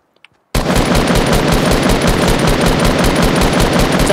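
A shotgun in Fortnite opens with a couple of faint clicks, then sustained loud rapid gunfire blasts continuously to the end, close and dominant.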